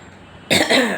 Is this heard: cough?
yes